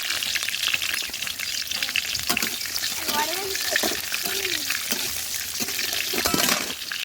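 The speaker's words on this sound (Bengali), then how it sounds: "কড়াইয়ের তেল গরম হয়ে গেছে, তো দিয়ে দেবো একটু কালো জিরা চেরা কাঁচা লঙ্কা" Black cumin seeds and slit green chillies sizzle and crackle in hot oil in a wok, a dense continuous frying hiss close by, while a person talks over it intermittently.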